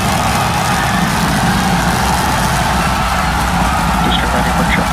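SpaceX Starship Super Heavy booster engines fire while the booster hovers and aligns with the launch tower for a catch landing, producing a loud, steady, broadband roar and rumble that fills the whole stretch without a break.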